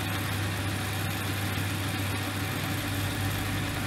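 An aluminium workpiece turns on a lathe under a Chinese carbide insert bit, a constant loud motor hum with a harsh, noisy cutting hiss over it and no voices.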